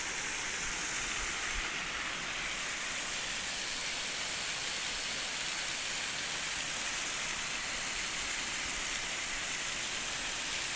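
Purling Brook Falls in Springbrook National Park roars as a steady, broad rush of falling water, unbroken and even throughout with no voices over it.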